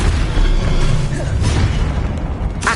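The Confringo spell from a Harry Potter film goes off as a loud, roaring blast that rumbles on as a dense, sustained wash of noise with no clear break.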